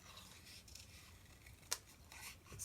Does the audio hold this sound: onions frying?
no